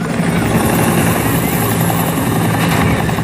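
Loud, steady helicopter rotor noise fills the air with a constant low thumping drone, close by and continuous throughout.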